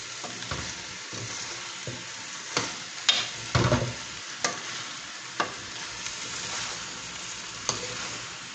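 Aloo gobi of potatoes and cauliflower is stirred in a pan, with repeated spoon scrapes and clacks over a soft sizzle, loudest in a cluster of strokes near the middle, and no voices.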